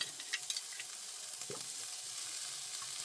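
Oil going into a pan of shrimp stir-fry noodles gives a steady fine sizzle of frying, with a few scraping stirs near the start and a brief clatter midway, close and moderately loud with no talk.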